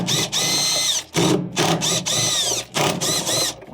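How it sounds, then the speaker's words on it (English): A power drill or driver whirs in short repeated bursts, spinning up and down while backing out 10 mm motor bolts on a Samsung washer being repaired. Sound is close and loud. "Next, remove the 5 10 millimeter bolts that are holding on the motor."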